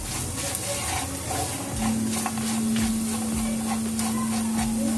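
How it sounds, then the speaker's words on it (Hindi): Cashews and raisins, along with magaj and almonds, are mixed in a pan for gujiya stuffing. A constant close sizzling hiss runs under repeated scraping stir strokes, and a steady tonal hum joins partway through. "काजू और किशमिश। इन सबको हम मिक्स कर लेंगे।"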